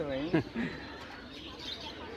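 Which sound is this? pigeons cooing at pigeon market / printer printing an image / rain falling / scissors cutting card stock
pigeons cooing at pigeon market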